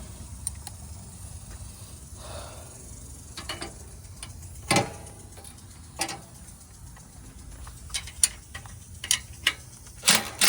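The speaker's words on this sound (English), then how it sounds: "Still, 1/2 inch wrench," A ratchet wrench with a 1/2 inch deep socket turns bolts on a multi screener being taken apart, giving quiet clicking pawl runs and scattered metallic clacks over low background hum.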